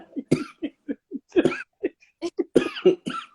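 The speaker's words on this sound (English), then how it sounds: "You're making me cough." A woman coughs in a string of short, sharp bursts during a casual chat, some with a laughing, voiced edge, fairly close and loud with brief pauses between.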